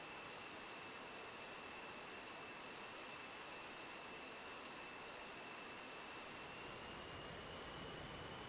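Jet engines warming up in Microsoft Flight Simulator, a steady broadband roar with high whining tones running unbroken and even throughout, with no talk.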